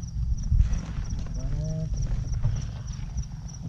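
A mare walks near stables, her hooves clip-clopping faintly under a low rumbling background, and a short voice sounds partway through.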